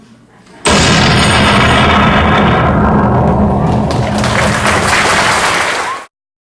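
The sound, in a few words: cannon fire sound effect in a school play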